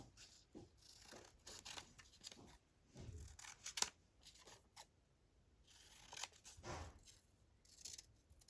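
Scissors cut out paper nearby, faint bursts of snipping and rustling separated by quiet gaps.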